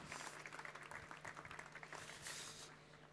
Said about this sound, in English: Round warm of applause.